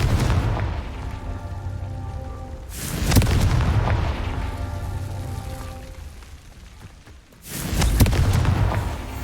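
Confringo spell blasts in the video game Hogwarts Legacy, heard as three loud booming explosions spaced a few seconds apart, each with a rumbling tail that lingers between the hits.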